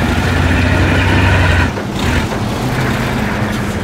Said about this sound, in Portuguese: Você vê o barulho das engrenagens do caminhão.